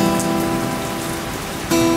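Heavy rain from a thunderstorm drums steadily on a surface outdoors during a live song performance, a continuous dense hiss with a sustained tone running underneath and a brief louder swell near the end.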